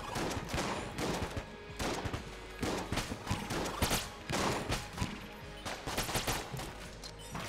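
Rapid bursts from the trick gun in Enter the Gungeon, a dense stream of punchy digital gunshots firing in quick clusters throughout, loud and steady with short pauses between volleys.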